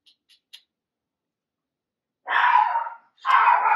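A dog lets out two short, loud barks close by in a quiet room, after a few faint taps.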